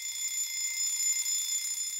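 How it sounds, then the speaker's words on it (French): A high-pitched alarm clock rings steadily and continuously, a thin electronic shrill without pauses, moderately loud and alone. "pourquoi préférons-nous les fréquences graves d'un ronronnement plutôt que les aigus d'un réveil?"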